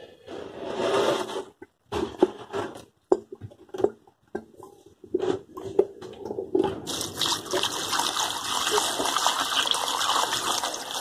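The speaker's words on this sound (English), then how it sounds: "And then we fill up with the water." Water pours into a bucket packed with stinging nettles and weighed down by a brick, first in broken splashy bursts, then a steady loud gushing stream for several seconds.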